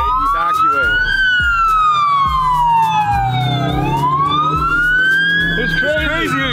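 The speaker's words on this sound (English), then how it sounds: "They'll keep running their sirens to annoy people that want to leave" A loud police siren wails up and down nearby during an evacuation, sweeping in long rising and falling tones, with low rhythmic thumps beneath.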